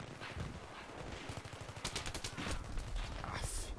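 Battlefield 3 gunfire during a Rush match on Damavand Peak: dense, continuous bursts of rapid shots and rattling fire spread across the clip, fairly loud and sustained with no pauses.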